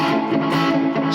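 Electric guitar played with palm muting through a series of triad chord changes, heard alone, close and steady with a dense, slightly distorted tone.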